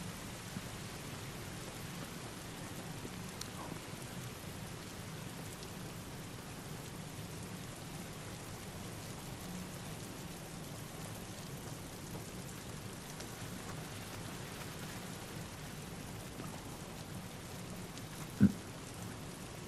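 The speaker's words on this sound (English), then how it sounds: "Oh, I hate to walk in this rain." Steady, even rainfall from the game The Last of Us Part II with a soft hiss throughout, fairly quiet, with one brief faint knock near the end.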